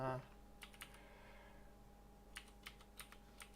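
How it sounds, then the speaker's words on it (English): Quiet clicks of keys being typed on a computer keyboard, a few scattered taps then a quicker run, close by over a faint hum, after a brief voice. "can you guys hear the keyboard?"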